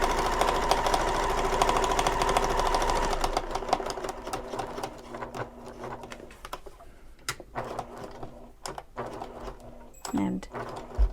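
Sewing machine stitching a shoulder bag, a fast steady whirring hum that gives way to short start-stop bursts of stitching with pauses between, close and fairly quiet, with faint voice in the background.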